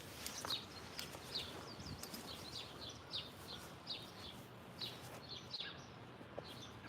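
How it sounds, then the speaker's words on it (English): Birds chirp outdoors in short, repeated high calls that come roughly every second, faint and a little distant over a soft background hiss, with no talking. "Listen to the birds."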